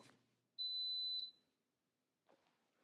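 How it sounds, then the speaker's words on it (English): A single sustained high electronic beep from a kitchen timer rings out clearly, then fades to near silence before a faint brief rustle. "There's a lot of beeps. That means our 5-minute cook is done."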